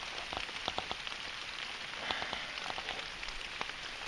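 Rain patters steadily on a natural outdoor shelter in November, with scattered distinct drops tapping nearby over a constant soft hiss, and no voices.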